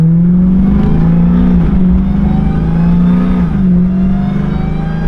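A car engine idles steadily up close after its clogged fuel injectors were cleaned following 30,000 miles on E85, holding a smooth low hum with a couple of slight dips in pitch and no talking.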